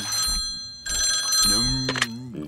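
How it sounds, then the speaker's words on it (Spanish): Cartoon telephone ringing with bright repeated bell tones in bursts, close and loud, alongside cartoon voices speaking. "¿No piensas cogerlo? ¿El qué? El teléfono."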